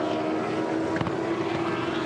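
Mercedes-Benz AMG Supercar V8 racing in the Erebus team at the 2013 Perth 360, with a loud, steady engine drone that holds a constant pitch and stays unbroken throughout.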